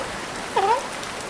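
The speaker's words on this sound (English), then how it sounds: "the rain is pouring." Heavy rain pours on Canon Beach, Oregon, a steady broadband hiss filling the background, with a brief chirping call rising briefly over it midway.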